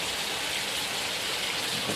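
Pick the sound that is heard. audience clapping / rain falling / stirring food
rain falling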